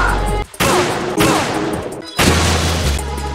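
Sniper support fire in the Metal Gear Solid VR Missions video game, loud heavy gunshot booms with sharp cuts between bursts and a low rumbling tail, no talking.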